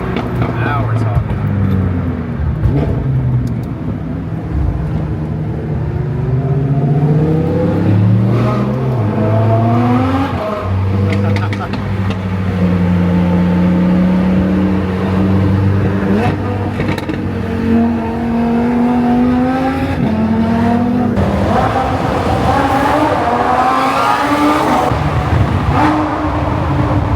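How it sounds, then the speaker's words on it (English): A supercar fitted with a rift exhaust revs and accelerates in a tunnel, its loud, rising engine roar echoing continuously with several climbing surges, while people talk and exclaim over it throughout. "Menacing in the tunnel, and it's because of the rift exhaust."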